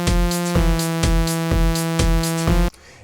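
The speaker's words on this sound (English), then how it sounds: "So now let's see how the pad sounds together with the drum loop" Serum-made synth pad holding a constant note over a four-on-the-floor techno drum loop, steady kick thumps about twice a second with hats, loud, ending abruptly into a faint tail.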